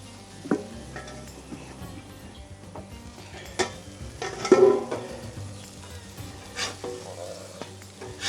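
A grilled cheese sandwich sizzles on a flat griddle with a steady, moderate hiss, broken by a few sharp spatula clicks and scrapes as it is checked and flipped.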